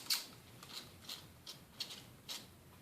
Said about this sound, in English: hope you guys can see me taking the screws out here